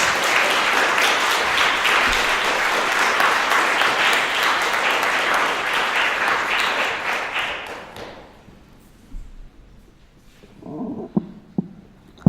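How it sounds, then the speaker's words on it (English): Audience applause welcoming a poetry speaker at an event, a loud sustained round of clapping that fades away after about eight seconds, leaving a quiet room with a few scattered taps. "let's give her a warm round of applause for Leann Gomez."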